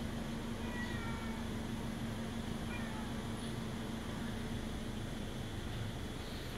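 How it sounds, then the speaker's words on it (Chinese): A cat meows a few times at a distance, faint against a steady broadband hiss and a low hum, with no voices heard. "喵喵，喵喵来，来来来"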